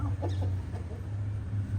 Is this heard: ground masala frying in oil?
no